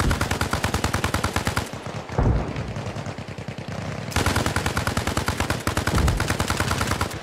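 Long bursts of machine gun fire in the military shooter Arma Reforger crackle loud and near, pausing for a couple of seconds in the middle while quieter distant shots go on, then starting up again hard.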